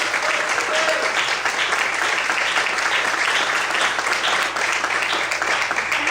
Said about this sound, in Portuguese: Será que você pode aplaudir e glorificar ao Senhor nessa noite?